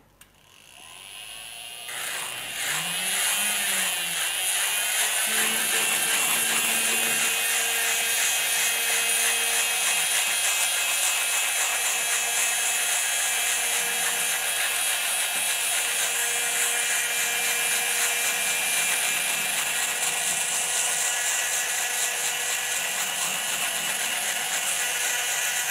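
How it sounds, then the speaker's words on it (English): A pendant motor flex shaft spins against a 100-grit sandpaper stick while a jewellery needle burnisher is being shaped, producing a steady high whirring drone that spins up in the first seconds and then holds level, close and alone. "we're going to run our pendant motor or flex shaft up and down the sandpaper stick"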